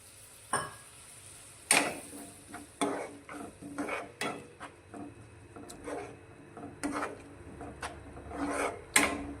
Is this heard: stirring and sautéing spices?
yes